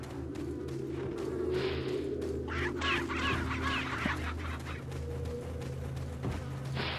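Chickens clucking and squawking in a farm area of the video game Resident Evil 4, busy fowl calls over a steady low game ambience, with several louder bursts of agitated flapping and cackling.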